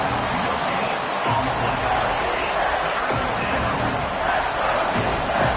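Stadium crowd in an American football video game, a dense, continuous roar of many voices building during a red-zone play, loud and steady throughout with no clear pauses.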